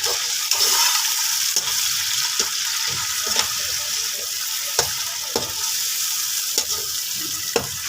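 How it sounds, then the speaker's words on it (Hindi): Browned onions with tomatoes and garlic-ginger paste fry in a pan for home-cooked Pakistani fried rice, a steady close sizzle broken by sharp scraping ticks as the mixture is stirred. "और फिर अच्छी तरह इसको फ्राई कर लेंगे।"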